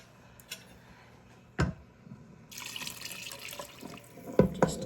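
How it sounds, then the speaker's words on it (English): Chicken broth poured into a pot of bacon cheeseburger soup at a boil, a couple of clunks followed by a steady close splashing pour over the last few seconds, with no talking. "I think I'm going to add just a little bit more broth."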